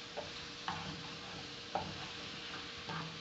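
A fish fillet frying in a little oil, with a soft steady sizzle near the pan and a few brief scrapes or stirring clatters at intervals.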